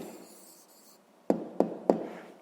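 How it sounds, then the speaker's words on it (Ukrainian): A pen scratches briefly across paper while an answer to a fifth-grade maths exercise is written down, followed by three crisp taps, quiet and close. "Пишемо відповідь"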